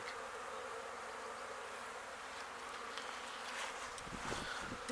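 Many Ukrainian steppe honey bees hum at their hive in a steady, faint buzzing drone, close and continuous, with a few soft knocks near the end.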